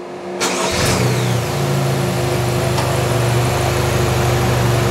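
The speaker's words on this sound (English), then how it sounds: "we'll see that the engine will restart by on itself" A GM 1.4-liter direct-injection engine mounted on a test bench restarts automatically from start-stop, a brief cranking burst followed by a steady, loud idle hum that continues close by with no talking.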